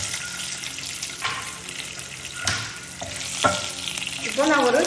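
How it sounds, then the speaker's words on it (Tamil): Whole spices and bay leaves fry in hot oil for a butter beans biryani, giving a steady close sizzle with a few clinks of stirring and a louder crackle at the end. "நல்லா பொரியணும்."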